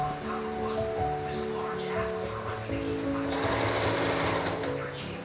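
Sewing machine stitching georgette fabric, a fast steady mechanical whir with rapid needle chatter that grows louder and busier midway, under a nearby voice.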